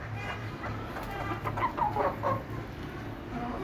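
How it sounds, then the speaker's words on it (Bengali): Broody hens cluck in short, clustered bursts over a low farmyard hum, growing busier in the middle before settling back to a quiet background. "এগুলো কোচা মুরগি 2জন আছে, এই মুরগের সাথে আটকায় রাখছি"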